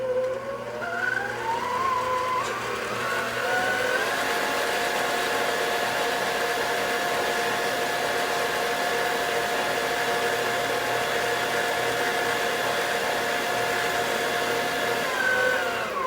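A stand mixer running on high beats eggs into cookie dough, its motor whine climbing in pitch during the first few seconds and then holding a loud, steady whir close by, with no talking.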